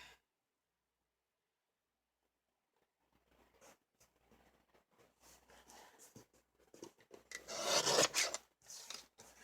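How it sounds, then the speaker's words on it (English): Paper trimmer slicing card stock for a handmade card, quiet at first, then scratchy sliding and cutting noises building to a louder rasp near the end, close by with no talking. "I'm going to cut off this side first because it's not straight."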